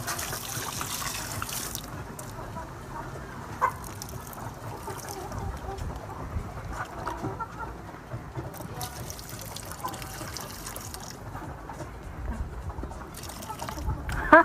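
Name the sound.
water from a bucket wetting poultry waste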